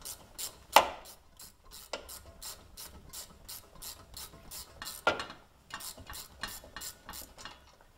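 A ratchet wrench clicks in quick, steady runs as the brake line bolt is backed out of a 2001 Honda Civic front strut, with a few louder knocks of metal, close up and with no talking.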